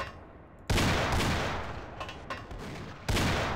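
Loud, close gunshots from a revolver in the video game Half-Life: Blue Shift played in Sven Co-op: a heavy blast, then smaller shots near the middle and another sharp blast near the end, each with a decaying tail.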